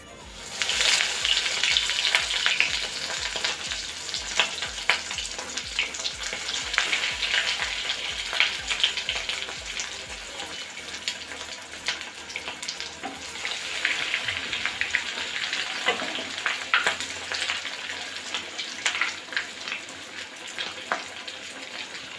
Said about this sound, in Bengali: কাতলা মাছের চপগুলি ভাজবার জন্য তেল আমাদের গরম হয়ে গেছে।